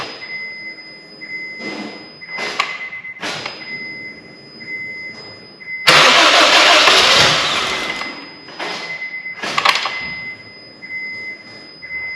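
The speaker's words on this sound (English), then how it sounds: "So now that I got the car running" A car engine cranks and fires up after a head gasket replacement, a sudden loud burst of starting noise midway, followed by steady running; a high electronic tone and intermittent clatter sound around it, close up with no talk.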